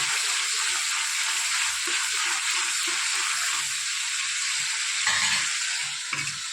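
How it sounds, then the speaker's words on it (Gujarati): Raw gravy ingredients for a Gujarati onion and chana dal curry frying in a pan, giving a steady, close sizzle with occasional soft stirring scrapes throughout. "આ બધું કાચું લીધેલું છે એટલે શેકીને થવા દઈએ."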